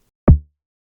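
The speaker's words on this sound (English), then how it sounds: "So without the reverb, it is a simple kick" One dry kick drum hit with no reverb, intended for a rock or metal impact sound: a short, punchy thump that decays quickly into silence.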